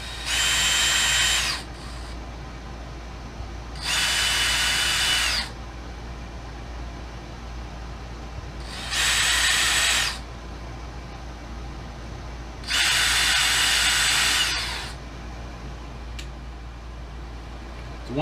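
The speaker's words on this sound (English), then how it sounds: "All right, we'll drill a couple little holes." Power drill boring a couple of small holes during a Garmin marine electronics installation, heard as four loud, high whirring bursts of one to two seconds each, separated by quieter pauses with a steady low hum underneath.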